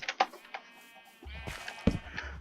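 Sheep bleating in the Minecraft video game near a fenced pen, with a few short, fairly loud bleats standing alone in the quiet.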